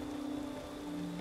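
Steady rain falls in Ancestors: The Humankind Odyssey, a quiet, even hiss of drops over a low hum, continuous and short with no voices.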